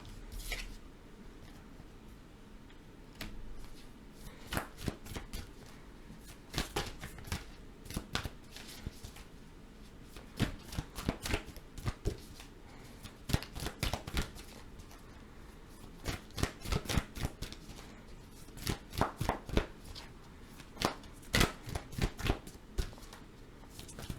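Tarot cards being shuffled and handled in quick, papery bursts of riffling and tapping, close and fairly quiet, coming in irregular clusters with brief pauses between them.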